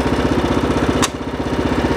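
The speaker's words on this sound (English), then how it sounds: "turn the engine down to low" A Craftsman R1000 riding lawn mower engine idles at low throttle, a close, loud, steady chugging pulse with a brief sharp click near the middle.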